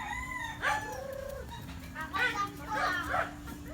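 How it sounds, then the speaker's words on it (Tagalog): Many chickens cluck and crow in several short bursts on a family trip to Tagaytay, with people talking between the calls over a steady low hum. "Ayan, ang daming manok oh."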